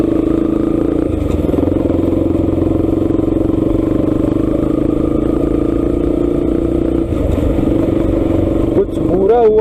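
A KTM RC 200 motorcycle being ridden with a broken clutch wire, its engine droning steadily and loudly under wind noise, with a voice speaking over it.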